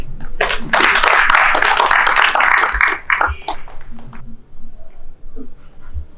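An audience at a church-style gathering breaks into loud, dense clapping for about two seconds, then the applause thins into scattered claps and fades under quiet murmuring.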